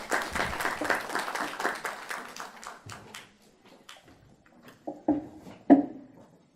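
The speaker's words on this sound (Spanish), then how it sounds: "Fuertes palmas para él" Audience applause for a presenter at a Huaraz workshop on the 2015–2016 El Niño, a dense burst of clapping that thins out into scattered claps before a few louder closing claps.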